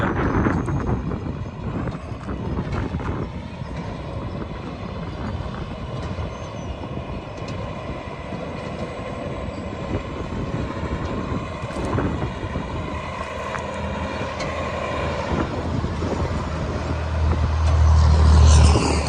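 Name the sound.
2007 Mack Granite CTP713 quad axle truck with pump trailer driving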